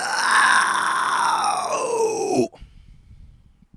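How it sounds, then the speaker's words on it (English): A low diaphragm-driven scream from a human voice: one sustained, gravelly cry lasting over two seconds, slowly falling in pitch, then cutting off abruptly into near silence. "Here's screaming with the diaphragm. Low."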